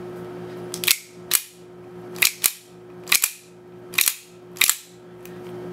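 Tokyo Marui Hi-Capa 5.1 airsoft pistol with a Madbull tight bore inner barrel firing seven sharp, snappy shots at uneven intervals, each crack followed by a short clatter, over a faint steady hum.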